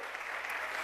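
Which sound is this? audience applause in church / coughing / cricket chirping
audience applause in church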